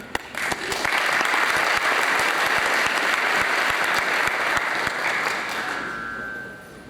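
A hall audience at a ZDAY 2011 gathering in London breaks into sustained, dense applause that starts sharply, holds loud for several seconds, then gradually thins out and fades.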